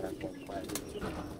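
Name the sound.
pigeons cooing while being fed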